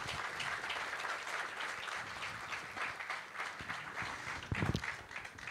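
An audience at a talk by Chilkur temple priest Rangarajan claps loudly and steadily, the applause sustained throughout with a brief louder burst near the end.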